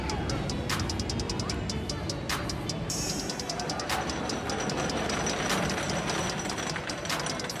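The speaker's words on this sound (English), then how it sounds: "You'll see here that the first train is now just rolling into the station." A roller coaster train rolls slowly into the station at Knoebels amusement park, clattering along the track with rapid ratcheting clicks and mechanical rattling over a steady background rumble.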